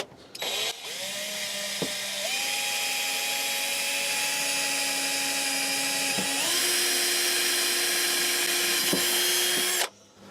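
A power drill drilling holes in wood for a doll's highchair whirs steadily for about nine seconds, its motor pitch stepping up partway through, loud and close, with no talking.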